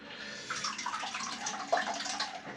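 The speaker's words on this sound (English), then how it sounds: "Just draining a drop of water out of the sink." Water drains and trickles out of a bathroom sink during shaving and face rinsing, a soft continuous gurgle with small splashes, close and fairly quiet, with no speech.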